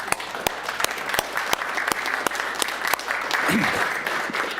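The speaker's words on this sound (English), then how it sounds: "I'll give it a round of applause" Scattered clapping from a sparse group at an airport board meeting, individual sharp hand claps standing out clearly against a low room murmur, steady for several seconds.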